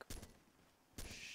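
Two bursts of rapid gunfire sound from a distance in a battle royale video game, each lasting a fraction of a second with a quiet gap between them.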